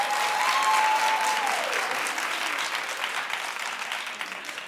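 Studio audience applauding on a daytime talk show, a steady wash of many hands clapping that carries loudly throughout, then eases slightly toward the end.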